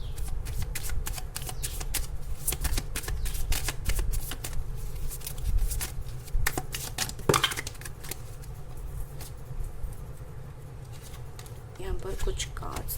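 Tarot cards are shuffled and a few dropped, giving a run of quick papery riffles and flicks with a brief clatter partway through, close and fairly soft, while someone talks intermittently over them.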